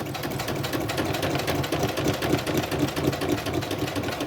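A sewing machine stitching junk journal folios runs at a steady rapid chatter, close and continuous, with an even mechanical rhythm and no talk.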